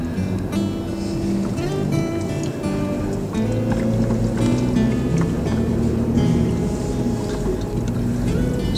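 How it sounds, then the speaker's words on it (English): A vehicle drives over washouts on the rig road across the Simpson Desert, clay pans and salt lakes alongside, its engine a steady loud low rumble with continuous rattling and bumping throughout. "This is driving on the rig road."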